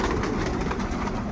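A large flock of pigeons gathers to be fed rice in the evening, making a dense, steady wash of cooing and fluttering that stays loud and close throughout.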